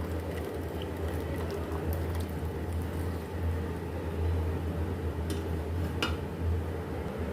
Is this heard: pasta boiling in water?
yes